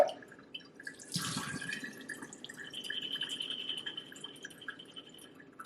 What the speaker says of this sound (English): rinse them with fresh water